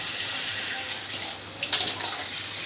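Water runs from a tap in a home kitchen while a shami kabab mixture of soaked lentils and chicken is prepared, a soft steady rush with a brief splash near the end.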